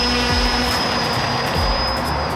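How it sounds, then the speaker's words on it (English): A radio-controlled model airplane flying in roughly 40 mph wind, its steady high-pitched motor whine holding throughout over loud, continuous wind buffeting. "This is my favorite plane."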